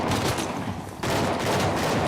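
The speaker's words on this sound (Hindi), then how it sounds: "चारों तरफ से गोलियां पड़ रही हैं।" Dense, continuous gunfire from the action game Uncharted: The Lost Legacy, with rapid overlapping shots and bursts that sound like several guns firing at once. The volume stays loud throughout, with only a brief dip near the middle.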